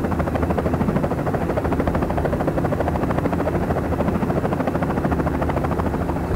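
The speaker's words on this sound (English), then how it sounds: "We're going to have a go at flying this helicopter in instant action mode" An MI-28 Havoc attack helicopter flying in a flight simulator game, its rotor thudding in a steady, loud, rapid chop with a whining engine throughout, no voices over it.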